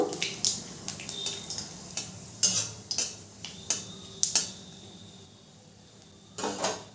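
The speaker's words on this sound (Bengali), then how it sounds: "ফোড়নটা একটু নেড়ে চেড়ে ভেজে নেব।" Whole cumin seeds and bay leaves tempering in a pan for a Bengali banana-flower dish, stirred with a spoon: a series of light metallic clinks and scrapes over a soft, steady sizzle, close by, with no talking.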